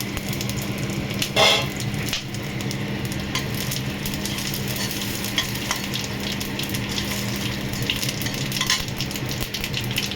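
Whole bay leaf and cumin seeds sizzle in hot oil as a steady, dense crackle, close and continuous, with a brief louder spatter near the start and no talking.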